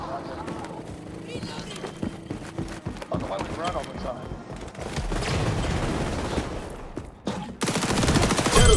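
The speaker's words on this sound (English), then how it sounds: "I'm trying the SMG right now." Submachine gun fire in an online team shooter game, bursts of rapid shots crackling amid busy game effects while players talk over it, growing louder toward the end.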